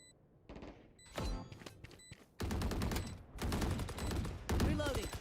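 Guardian rifle firing in Valorant, several sharp single shots and short bursts at close range over a busy game mix, with a voice talking in between.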